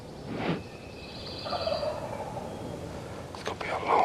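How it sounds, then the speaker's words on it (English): A wild turkey gobbles outdoors early in the morning during a hunt, giving one loud rolling gobble near the start and another near the end, at moderate distance over a quiet background. "to sit here and let one gobble, waiting on another one to gobble"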